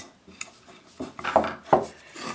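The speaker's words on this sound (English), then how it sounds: "And snug the screw down." A screw with a washer being snugged down on a homemade catch-and-release bottle mousetrap, a few short close metallic scrapes and creaks over a couple of seconds.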